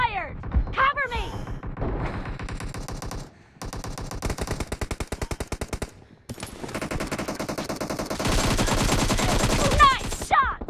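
Video game team deathmatch gunfire with an AKM: loud, rapid machine-gun bursts, rattling volleys and single shots broken by short pauses, with game announcer voice lines and character callouts mixed in.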